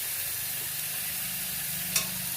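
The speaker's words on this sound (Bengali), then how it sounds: "জিরে, এটা খুব অল্প তেলে হয়ে যাবে।" Cumin seeds sizzling in a small amount of fish oil, a soft steady frying hiss with a faint stir near the end.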